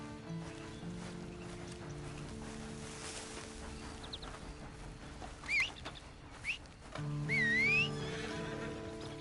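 A horse whinnies several times at moderate distance, high squealing neighs rising and falling over a steady low background hum.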